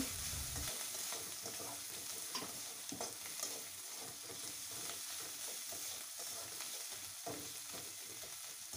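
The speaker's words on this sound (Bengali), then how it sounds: "মশলাটা ভালো করে নেড়ে চেড়ে ভাজা ভাজা করে" Spices with turmeric powder frying in a pan while being stirred, a steady close sizzle with scraping strokes of a spoon throughout and no voices.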